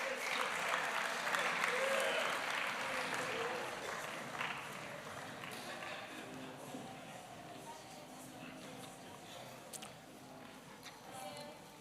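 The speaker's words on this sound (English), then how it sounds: "Please give them a round of applause one more time." An audience at a university sports awards evening applauds its award winners. The clapping starts loud and dense, then gradually thins and fades, with some crowd murmur underneath.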